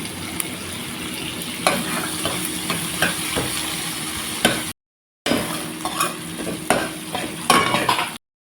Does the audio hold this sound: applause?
no